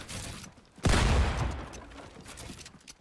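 A shotgun fires in an online video game, one loud booming blast that decays over about a second, with fainter game noise before and after.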